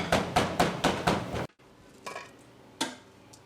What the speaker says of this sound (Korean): 그냥 통으로 구우면 잘 구워지지 않고 양념이 안 배니까 두드려서 이렇게 양념을 하게